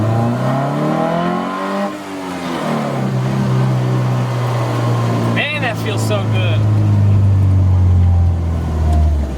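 A Porsche 914 engine drones and revs as the car drives through a neighborhood, its pitch rising and falling with acceleration, loud and close from inside, with someone speaking over it.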